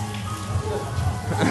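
Steady rain patters on a surface, a continuous broadband hiss with scattered drops, fairly close and even throughout.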